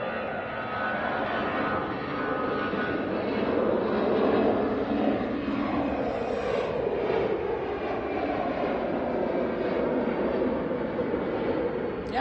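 A jet airliner taxiing at Manchester Airport gives off a steady, loud engine whine and rumble that swells slightly midway, heard from a moderate distance with no talk.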